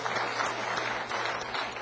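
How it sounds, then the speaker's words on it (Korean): A church congregation claps for a sermon, a dense, steady burst of applause lasting under two seconds. It is loud and fills the room. "와, 박수도 받고."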